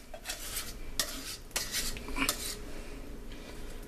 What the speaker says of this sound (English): start stirring this up and get the cheese all in there